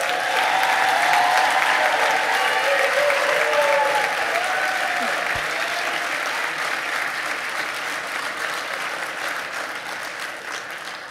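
Dense, steady applause from a large crowd at a police academy graduation greets the new officers. It stays loud for several seconds, then tapers off gradually, with a brief low thump partway through.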